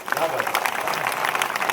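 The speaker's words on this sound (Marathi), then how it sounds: "एकदा शिवरामसाठी जोरदार टाळ्या झाल्या पाहिजे." Audience clapping at a Konkani folk stage show in Sangameshwari style, a steady patter of many hands with some voices mixed in, sounding at moderate distance.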